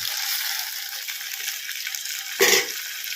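Thinly sliced tomatoes cook in a pan for tomato rice, giving a steady close sizzle with one brief louder clatter of stirring near the end.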